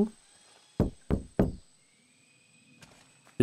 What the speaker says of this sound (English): Did he knock with his head?